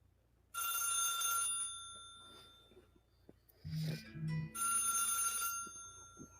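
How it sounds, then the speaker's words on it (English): A multi-line desk telephone rings loudly in two long electronic bursts separated by a short pause, close to the listener, with a faint voice murmuring briefly between rings. "my phone's a multi-line, so it has there's like 4 different phone numbers that ring in there"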